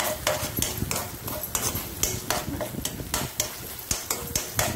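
Spoon stirring Anjal kingfish fry on a metal tawa, with quick repeated scraping and clinks in a steady rhythm over a faint sizzle, close and clear.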